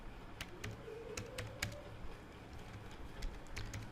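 Quick, close clicks of a computer keyboard as data is typed into an Excel spreadsheet, coming in short irregular bursts with no talking over them.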